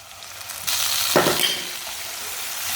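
Chopped tomatoes hit a pan of lightly browned frying onions, setting off a sudden loud sizzle after a soft rustle, then a steady hiss as the frying settles.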